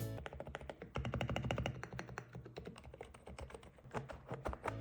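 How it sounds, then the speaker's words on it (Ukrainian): A quiet EPOMAKER mechanical keyboard is typed on steadily, giving a dense, fast stream of soft key clicks close to the microphone. "Тайпінг по-справжньому беззвучний."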